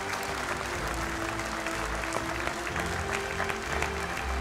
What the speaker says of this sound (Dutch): een enorm applaus voor de muzikanten van Veronica